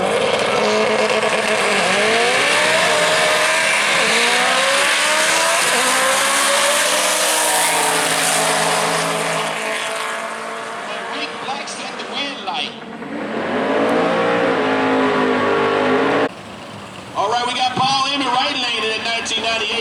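A drag racing car launches down the strip at World Wide Technology Raceway during a no-time race, its engine roaring loudly and climbing through rising revs, with an announcer-like voice over it and a brief dip and cut near the end.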